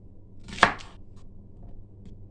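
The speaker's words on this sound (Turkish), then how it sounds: "Hemen doğramaya başlayayım." One crisp knife chop through onions on a board, close and clear, followed by quiet room tone.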